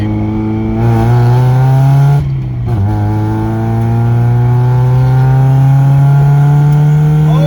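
Mazda NA Miata engine revving hard in second gear, loud rising pitch that dips briefly around a shift, then climbs again steadily and close.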